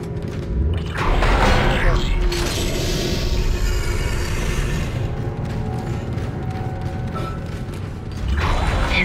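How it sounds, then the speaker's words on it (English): Asteroids strike the starboard hull of a spaceship in the video game Dead Space, sending heavy booms, thuds and metallic creaks and rattles through the hull under a rumbling mechanical din, with a voice speaking over it. "Multiple impacts detected across the starboard hull."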